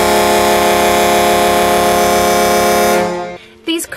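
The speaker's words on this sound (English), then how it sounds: "29-inch, 26-inch rectangle Hadleys as a pair." A pair of 29-inch and 26-inch rectangular Hadley chrome steel air horns blasts loudly in one sustained chord for about three seconds, then cuts off, leaving brief mechanical noise.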